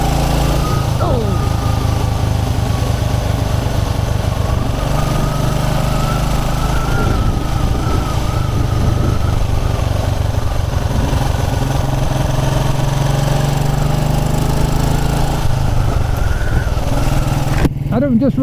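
A 1929 'Black' Ariel motorcycle out on a ride along country lanes, its engine droning loud and steady from start to finish, with a rider talking over it.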